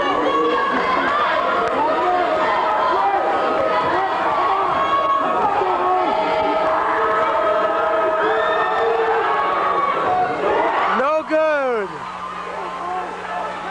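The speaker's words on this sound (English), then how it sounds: "The crowd getting into it" A basketball crowd in a gym roars and chatters steadily throughout, a loud dense wall of voices and cheering that swells near the end.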